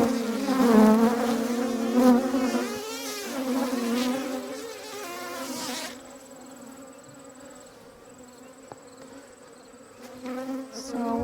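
Honey bees from an opened hive hold capped and uncapped honey, buzzing loudly close by with a wavering drone that eases to a quieter hum midway, then swells again near the end.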